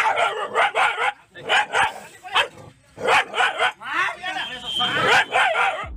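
A mother dog barks sharply and repeatedly at an attacking king cobra in bursts of loud yelps and barks with brief whimpers between them. The barking is close and urgent, with short pauses.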